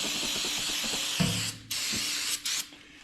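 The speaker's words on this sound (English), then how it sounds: "Brake parts cleaner." Brake parts cleaner sprays from an aerosol can in a few continuous hissing bursts with brief pauses between them, close and fairly loud, while a governor is swapped in a workshop.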